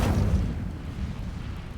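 An Incendio fire spell is cast in Hogwarts Legacy: a loud, close whooshing burst of flame that starts strong and slowly fades over about two seconds.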